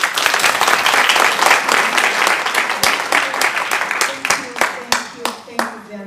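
An audience at an honoring event breaks into sustained applause that thins into a few scattered, distinct claps as it fades out.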